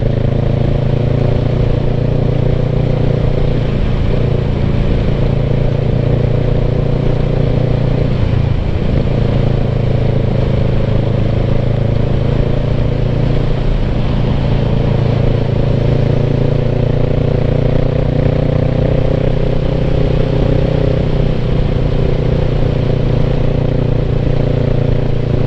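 A motorcycle climbs a gravel hill at 60 mph on new tires, a loud, steady engine drone with wind rush and faint clatter from the road, unbroken throughout.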